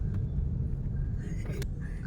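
Low, steady engine rumble of a car crawling through heavy traffic on Commonwealth, heard close from inside the vehicle, with a few faint higher tones from the surrounding street and muffled voices nearby.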